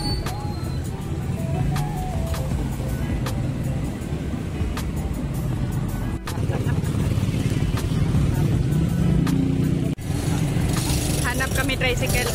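A motor tricycle engine rumbles steadily in El Nido, a close low drone with occasional clicks and bumps, running under people talking throughout.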